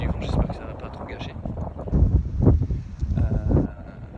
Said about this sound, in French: il y a du vent, j'espère que ça va pas trop gâcher